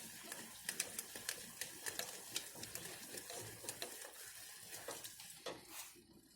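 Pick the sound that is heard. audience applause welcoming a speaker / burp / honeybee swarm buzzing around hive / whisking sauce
whisking sauce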